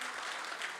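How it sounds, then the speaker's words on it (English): Audience at a gala dinner applauding the evening's winner, a dense, steady wash of clapping heard from a distance and fairly soft. "Let's clap until he gets here."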